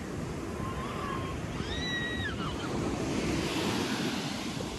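Sea waves roll onto the shore in a constant roar, buffeted by wind noise, with a brief high whistling tone early on.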